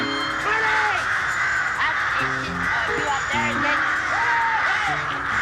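Crows caw repeatedly from fairly near, harsh calls coming in irregular bursts over a steady background hiss, with no talk heard.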